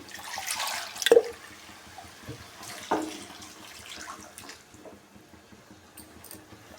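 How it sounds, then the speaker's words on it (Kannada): Water splashes from a jar into a pan of spinach chicken gravy in a short pour, followed by quieter trickles and a few clinks against the vessel. "ಇವಾಗ ಸ್ವಲ್ಪ ಜಾರ್ಗೆ ನೀರು ಹಾಕ್ಕೊಂಡು ನಾನು ಹಾಕ್ತಾ ಇದ್ದೀನಿ"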